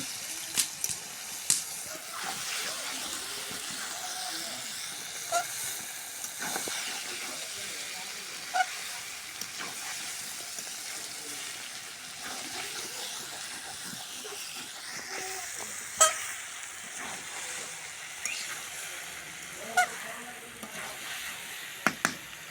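Bitter gourd fries slowly in a covered pan over low heat, giving a steady soft sizzle and hiss with occasional sharper crackles and pops throughout.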